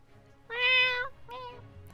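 A person vocally imitates a cat, giving two close, clear meows in quick succession, the first longer and louder, the second shorter.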